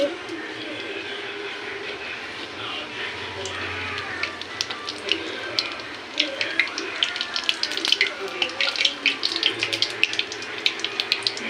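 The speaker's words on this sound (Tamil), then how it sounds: "சோம்பு வந்து பொரிய ஆரம்பிச்சிருச்சு." Fennel seeds spluttering in about 150 ml of hot oil for crab masala, a steady sizzle that grows into dense, sharp crackling and popping toward the end, close and fairly loud.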